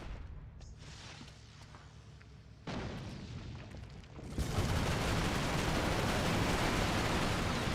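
Gunfire and blasts from the PlayStation 3 shooter Resistance: Fall of Man in multiplayer, a low rumbling barrage that swells and then holds as a loud continuous roar of shots and explosions, with no talk.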